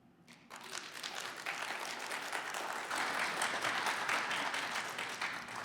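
Audience applause fills an election forum hall, with steady, sustained clapping from a sizable crowd that rises slightly in intensity partway through and continues without pause.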